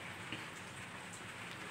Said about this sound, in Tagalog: bumubuhos na ang hangin at ang ulan